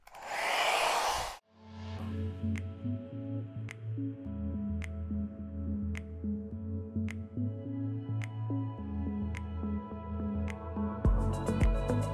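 An Amazon hot air brush dryer runs on towel-dry hair: a loud breathy blast at first, then a steady humming motor drone with a faint regular ticking underneath.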